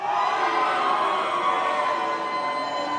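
A large crowd at the El Do Rey roars and cheers in a steady, loud, sustained wash of voices filling the room.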